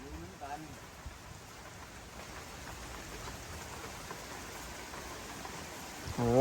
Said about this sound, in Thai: ลมก็แรงมากๆเลยนะทุกคนดูครับ ฝนตกนะครับ ผมมาถึงปุ๊บฝนก็ตกมาเลยนะ